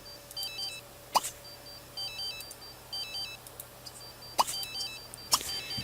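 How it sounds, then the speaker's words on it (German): A telephone rings in The Sims 3 video game with a repeating electronic ringtone melody in short bursts, broken by a few sharp clicks, alone and fairly quiet. "Telefon."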